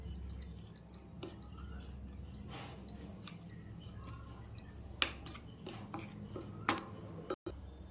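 Pieces of elephant foot yam are tossed with chilli, cumin powder and garam masala in a bowl, giving soft irregular scraping, clinks and ticks close by in a quiet kitchen.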